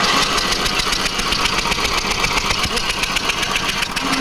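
A Toro Big Red rototiller engine runs loud and close, a steady rough mechanical drone with a rapid rattling pulse that holds level throughout, no talk.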